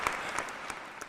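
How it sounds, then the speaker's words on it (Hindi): Audience applause at a Hindi comedy poetry show, a brief burst of dense crowd clapping with a few sharper claps standing out near the front. "इन श्रोताओं के लिए तालियां बजाएं"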